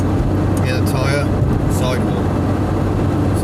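A Skoda Favorit with small 13-inch wheels drives at speed, its steady loud engine drone and road roar filling the cabin while someone talks over it.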